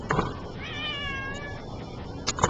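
A house cat meows once in a drawn-out, wavering call, fairly close and clear against a quiet room, with faint rustling at the start and end.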